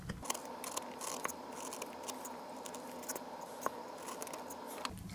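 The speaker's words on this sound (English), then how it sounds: "I'm just gonna take my blade and cut down so it doesn't peel again." An X-Acto blade cuts down into soft carving material on a tiny carving, making faint scattered snips and scratchy ticks that are close and quiet, with no talk.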